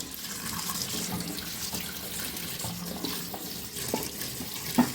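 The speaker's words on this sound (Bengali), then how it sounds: "এই গোটা অবস্থাতেই আমি ধুয়ে নেবো" Freshly dug taro stolons are washed whole in water, with a steady run of splashing and trickling close by and a few soft knocks, and no voices.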